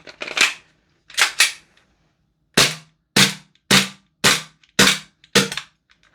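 Double Eagle FN 509 gas blowback airsoft pistol firing eight sharp cracks, two spaced shots and then a steady run of six, each snapping loudly up close with a brief slide clack and silence between.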